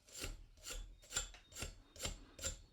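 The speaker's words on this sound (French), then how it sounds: "On prend une brosse métallique, on donne un premier coup dans ce sens-là." A wire brush scrubs PTFE tape off threaded pipe in six steady, evenly spaced rasping strokes, each a bright, bristly scrape up close, with no talk.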